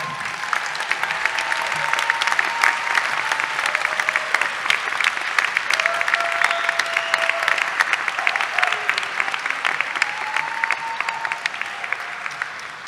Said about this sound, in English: I want you to turn around and applaud your supporting folks one more time